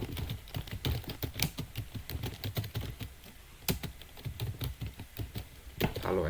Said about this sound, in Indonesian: saya akan mengecek apakah paket DNS sudah terinstall dengan mengetikkan systemctl status bin 9.